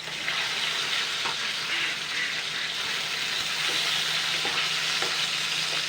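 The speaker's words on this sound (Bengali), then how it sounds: "এবার উল্টে পাল্টে কিন্তু আমি লাল লাল করে ভেজে নেব।" Katla fish fries in hot oil in a pan, a steady close sizzle with scattered pops and scraping taps as the pieces are turned over.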